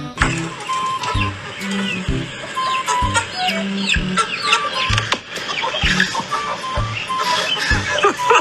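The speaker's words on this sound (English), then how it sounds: "There's some geese beating the shit out of each other." Geese squabbling and fighting, with loud repeated honks and clucking calls over a constant noisy outdoor background, while a voice talks in short bursts.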